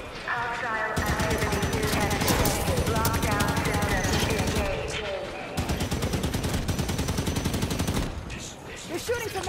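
Rapid automatic gunfire rattles in dense, sustained bursts in the Halo 5: Guardians video game, loud and close, broken by a few short gaps, with a voice speaking over the shooting.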